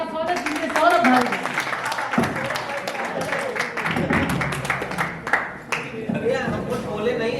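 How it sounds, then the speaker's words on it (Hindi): Applause from a comedy-poetry show audience welcoming a comedian to the stage, a dense, steady wash of clapping lasting several seconds with crowd noise mixed in. "एक बार जोरदार तालियों के साथ स्वागत कीजिए"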